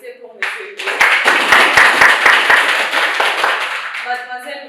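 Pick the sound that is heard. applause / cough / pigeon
applause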